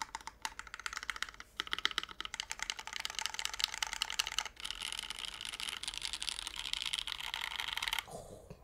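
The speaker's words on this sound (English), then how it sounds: "This has Cherry MX Blacks that have been lubed." Fast, steady typing on a mechanical keyboard fitted with lubed Cherry MX Black switches. Close, dense keystrokes run continuously for about eight seconds with one brief pause near the middle, then stop abruptly near the end. No voices.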